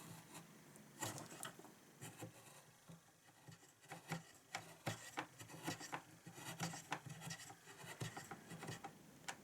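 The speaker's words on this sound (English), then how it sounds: "use the index hold to carve with the beveled edge of your gouge" A wood carving gouge shaves a clamped piece of wood with its beveled edge, giving repeated soft scraping strokes, close and quiet, with no talk.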